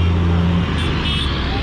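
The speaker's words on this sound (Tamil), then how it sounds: "கிளம்பினாலையும் என்ன ஃபுல் டிராஃபிக்கில் இருக்குது." Heavy road traffic rumbles on a road leaving the Thanjavur Big Temple, a loud steady drone of cars and engines close by, with a low engine hum at first and no clear talk.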